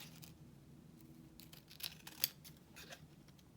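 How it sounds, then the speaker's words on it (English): Quiet, close snips of scissors trimming a glued-down journal page, a few short crisp cuts with light paper rustle in between, no voices. "So let me give it a quick trim."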